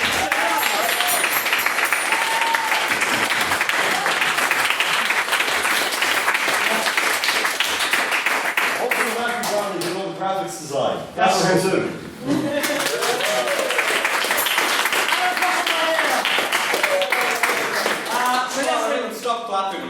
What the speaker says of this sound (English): can I get a round of applause for this?